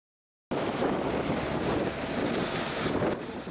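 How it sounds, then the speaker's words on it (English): Strong wind buffets a fishing boat offshore of Miami, a loud continuous roar of gusts that starts abruptly and blows steadily, with the wash of water mixed in. "Turns out it was real windy"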